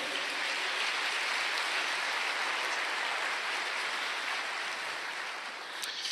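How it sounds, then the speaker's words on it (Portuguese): Church congregation applauding during a sermon, a steady dense wash of many hands clapping throughout, loud and even with no break, fading only slightly near the end. "pode aplaudir"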